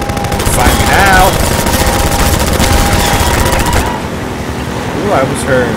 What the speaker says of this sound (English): let me return fire, see how you like it.